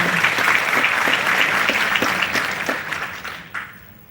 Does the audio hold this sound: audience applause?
yes